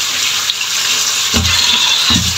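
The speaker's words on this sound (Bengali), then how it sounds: "দেখুন একদম আমি চকচকা করে ধুয়ে নিয়েছি। বালিটা ভালো করে পরিষ্কার করে নেবেন" Sweet potatoes washed under a running kitchen tap, a steady close rush of water with a couple of brief splashy surges, no talk.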